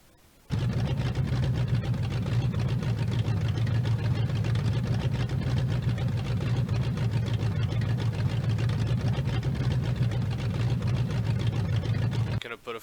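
In a driving game, the Junkvette car's engine starts abruptly and holds a loud, deep, rumbling idle with a steady lumpy throb for about twelve seconds before cutting off.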